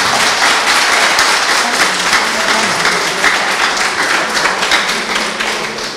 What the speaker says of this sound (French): Si vous êtes d'accord, applaudissez.